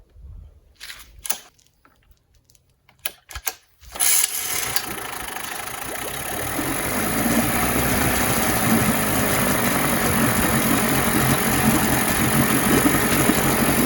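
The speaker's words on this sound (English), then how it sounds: "rev the engine up and let it idle back down again" A Mercury two-stroke 7.5 or 9.8 HP outboard motor starts from cold after a few brief clicks and knocks, then idles with a steady, loud, continuous drone that builds slightly and holds.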